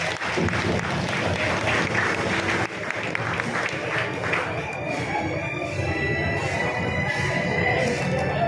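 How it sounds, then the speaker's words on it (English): Parents and guests at a St. Theodore School junior high moving-up ceremony give a sustained round of applause, dense clapping filling the hall at steady loudness with crowd noise mixed in throughout. "let us give them a warm round of applause"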